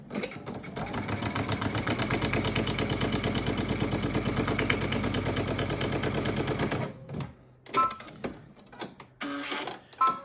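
A sewing machine stitches steadily over aluminum for about seven seconds in a fast, even mechanical rattle, then stops, leaving a few short bursts of handling noise.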